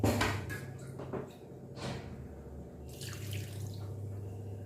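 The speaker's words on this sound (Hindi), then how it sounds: "ये छोटी सी है, 1 कटोरी पानी डाल देंगे।" A small bowl of water is poured into a wok holding over half a kilo of jaggery, giving a close, fairly quiet splash and trickle with a few drips, with no talking.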